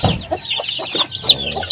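Hens cluck in a small backyard chicken coop, a close, fairly loud string of short clucks and squawks with a couple of sharper high calls near the end.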